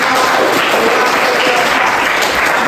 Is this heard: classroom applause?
yes